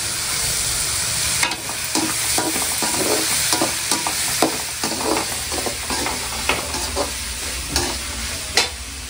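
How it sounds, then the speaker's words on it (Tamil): Tomatoes sauté in a pan for fish curry, a steady sizzle with repeated spatula stirs and scrapes, close and fairly loud; no voices. "இங்கே வந்து தக்காளி வதங்கிட்டு"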